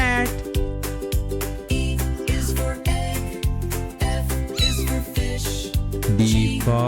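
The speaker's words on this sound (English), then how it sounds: "C for cat." Cat meows ring out over a bouncy nursery-rhyme alphabet tune with a steady beat and sung melody, the meowing mixed into the music rather than heard alone.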